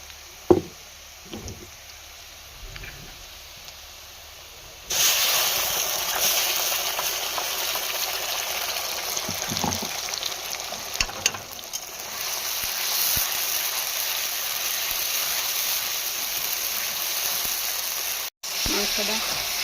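Fried onion and spices sizzle in a pan: quiet clinks and stirring at first, then a sudden loud, continuous hiss as the spices hit the hot oil, going on steadily with occasional scrapes.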